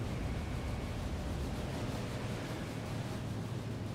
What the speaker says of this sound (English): And now, throw the switch. Main engine ignites.